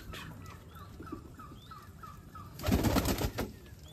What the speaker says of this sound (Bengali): এই যে অতিথি কবুতর আমাকে দেখলেই পালাই।